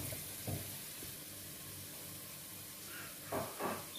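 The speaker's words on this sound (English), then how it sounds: "So while the onion is frying" Onion fries in a pan for a homemade chutney, giving a faint, steady sizzle with a few soft stirring shuffles.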